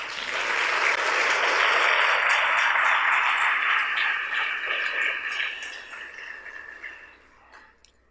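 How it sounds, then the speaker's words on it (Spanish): A church congregation bursts into loud, sustained applause that fills the room for several seconds, then tapers off toward the end with scattered claps and cheers. "Dele un aplauso al Señor."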